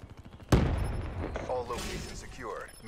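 Gunfire in the Black Ops 3 video game: a sudden loud burst of shots that rolls into sustained rapid fire and continuing battle noise, with game voice callouts over it.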